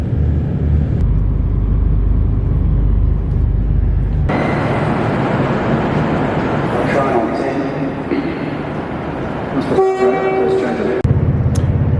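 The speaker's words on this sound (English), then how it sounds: "I'm on the train." Steady low rumble and rolling clatter from inside a moving passenger train, carrying on throughout, with a brief tonal horn-like blast near the end.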